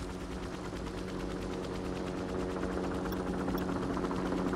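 Rifle fire at practice targets in Call of Duty 4, heard as a dense, continuous run of rapid shots over a steady low rumble, loud and even from start to finish without pauses.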